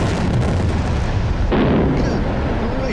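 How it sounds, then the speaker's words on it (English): A controlled landmine detonation during mine clearing in Vietnam gives a loud, sustained rumbling blast that fills the whole clip, with a sharper surge partway through and no voices over it. "I think I expected an explosion."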